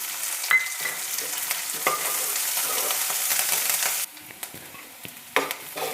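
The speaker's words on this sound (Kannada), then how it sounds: "ಈರುಳ್ಳಿ ಒಂದು ಮುಕ್ಕಾಲು ಭಾಗದಷ್ಟು ಫ್ರೈ ಆಗಿದೆ" Chopped onion, dal and curry leaves frying in a pan, giving a steady close sizzle with scattered stirring clicks, which drops to a quieter hiss partway through, followed by a sharp scrape.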